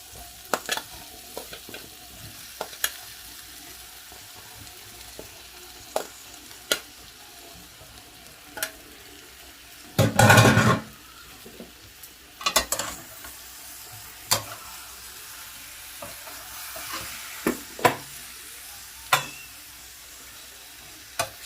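Fried potatoes and jackfruit sautéing in spiced oil for a Bengali jackfruit curry, a low steady sizzle with scattered spatula taps and scrapes, and one brief loud burst of splashing sizzle as water hits the pan.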